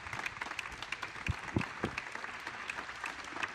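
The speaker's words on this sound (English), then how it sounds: "Let's give another round of applause to our amazing," Audience at a Blue Origin post-flight press conference applauding newly returned astronauts, a busy patter of clapping from a modest crowd with a few louder close claps standing out.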